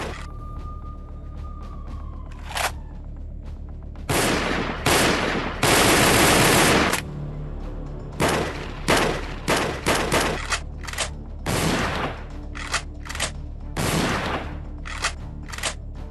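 Gunfire from sniper rifles in a Hamas propaganda release, heard as loud bursts of shots, some in long sustained volleys and others as short spaced cracks, with no talking.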